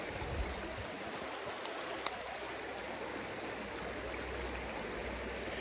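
River water flows near Poenari Fortress as a steady, soft rushing wash with no pauses. A couple of tiny clicks rise briefly above it.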